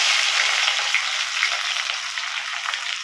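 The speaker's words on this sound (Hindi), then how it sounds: "तापर पियाजटा पकेबा।" Onions sizzling and frying in a pan for chicken biryani, a steady, close hiss of hot oil running without break and without voices.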